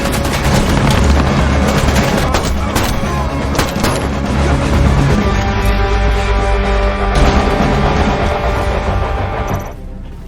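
Loud continuous gunfire rattles in dense bursts with booming impacts, a relentless barrage that fades slightly at the end.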